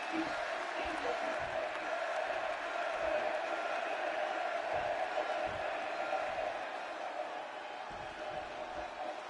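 A packed arena crowd in Chicago roars steadily in the WWE 2K26 wrestling video game, a dense continuous swell of cheering with no distinct breaks.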